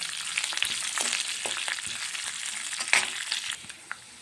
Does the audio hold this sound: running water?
no